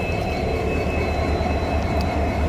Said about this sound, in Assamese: আহি গ'ল ৰেলখন